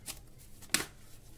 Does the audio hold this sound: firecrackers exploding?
no